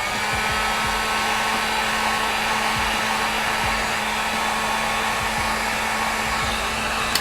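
A heat gun blows a continuous, even roar while shrinking heat-shrink tubing on a part of an FCX24 RC crawler, steady and close for the whole stretch.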